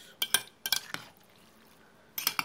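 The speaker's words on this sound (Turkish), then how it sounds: "Şu anda karıştırıyoruz arkadaşlar" Spoon scraping and clinking through pasta salad dressed with mayonnaise and salt, a few sharp clusters of clinks with soft wet mixing between, close and quiet.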